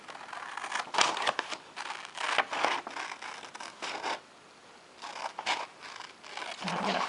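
Scissors snip through a paper sewing pattern for a princess-style line front, cutting along a traced line in a series of close, crisp rasping strokes with a short pause midway.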